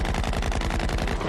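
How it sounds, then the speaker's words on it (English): Rapid machine-gun fire aimed at people, a loud, continuous rattling stream of evenly spaced shots throughout. "They're shooting at us."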